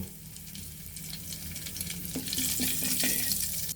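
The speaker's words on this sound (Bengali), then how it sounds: "এখন ওই কড়াইতে আমরা এখন গোটা কয়েক জিরে দিয়ে দিব।" A few whole cumin seeds hit hot oil in a kadai for an egg and onion-stalk curry, giving a close, steady sizzle with light crackles that grow brighter toward the end.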